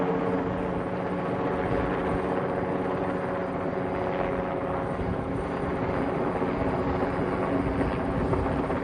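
A helicopter hovering near a cell tower during antenna removal, its steady rotor and engine drone close and constant, with a low throbbing hum and no voices.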